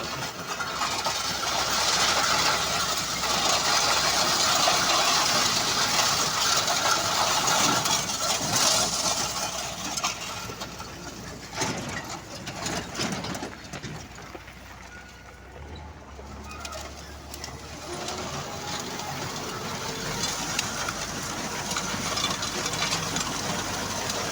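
A ЮМЗ-6 tractor sowing wheat into dry ground with a СЗ-3.6 seeder drones steadily from close by, loud at first and easing slightly, while pigeons coo nearby.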